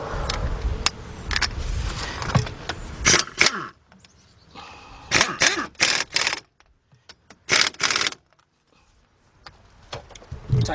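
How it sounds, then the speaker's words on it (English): A 1/2 inch drive impact gun on a medium setting tightens a 13 mm bolt during front wheel hub bearing work on a 2014 Chevy Impala, giving several loud, short hammering bursts separated by quieter shop pauses. "Get my 1/2 inch drive gun again. And this time what I'm doing, I'm putting it on a medium setting."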